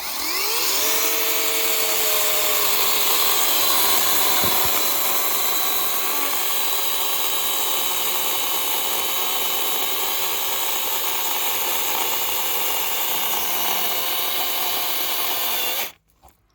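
The small electric motor of a Dawreek MK10 pruning saw whines steadily at high pitch for about fifteen seconds while cutting wood continuously, then abruptly stops.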